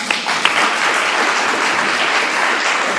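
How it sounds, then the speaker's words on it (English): Applause at an evening recognition reception, a loud, dense, even wash of many hands clapping close by, steady for the whole stretch with a couple of sharper claps early on. "for that alone, a round of applause"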